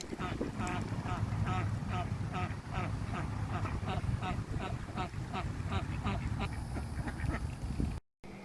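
Female Pekin ducks quack loudly and repeatedly in quick succession, close by, a busy chorus of sharp honking calls over a low background rumble.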